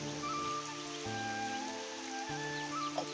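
Heavy rain pours steadily through the night in a Sambalpuri home setting, a dense continuous wash of drops drumming on surfaces, close and even, with a faint low hum underneath and no voices.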